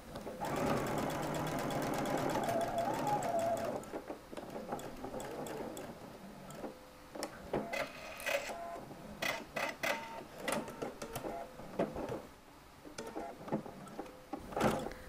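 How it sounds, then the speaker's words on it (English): A sewing machine runs a 5/8 seam allowance along a shirt shoulder seam through three layers of yoke and shirt front, a close steady mechanical whir for several seconds, then intermittent short bursts and clicks. "Sew your shoulder seam using a 5/8 seam allowance, catching all 3 layers of the yoke and the front of the shirt."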